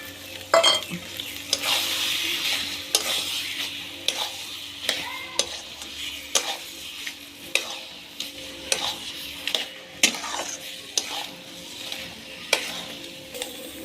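Prawns frying with white taro greens in a pan, stirred with repeated sharp scraping clicks over a steady sizzle, moderately close and alone with no voices.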